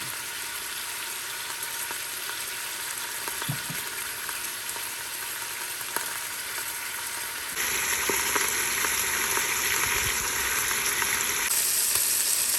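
Pork sizzling and browning in batches inside an Instant Pot, a steady close frying hiss that grows louder and brighter partway through, with faint bubbling underneath.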